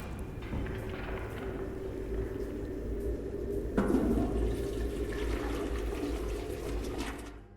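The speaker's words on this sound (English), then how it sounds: "So you can flush items down the toilet, which is really cool." A toilet in the video game Selaco flushing an item away, a steady rushing water swirl that swells partway through and fades near the end, heard alone without talk.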